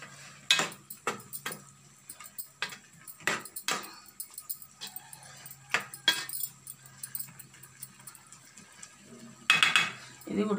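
Chana dal and cabbage curry stirred in a pot, a spoon scraping and clinking against the metal in scattered, irregular bursts, close and fairly quiet over a low steady hum.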